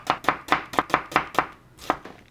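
A knife chops through half an onion on a cutting board with seven quick, crisp strokes in a steady rhythm, a short pause, then one final chop, close and clear.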